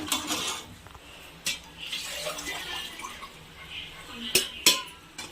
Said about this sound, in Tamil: தண்ணி ஒரு சொம்பு ஊற்றிக்கலாம்.